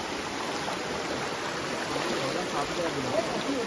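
Water rushes and splashes in a stream while crabs are caught by hand under stones, a continuous close wash of flowing water with faint voices in the background.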